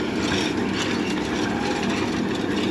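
A tractor pulling a chisel plow with about six fewer shanks than it can handle drones loudly and close by, a steady heavy engine roar with no talk over it.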